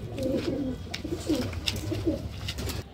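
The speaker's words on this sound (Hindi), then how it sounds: "और भी दिखाते हैं कबूतर आप लोगों को।" Pigeons cooing at a pigeon sale in Lucknow, with Kaldume, Rajasthani and Bajre breeds on offer; several soft, rolling coos follow one another over a low background murmur.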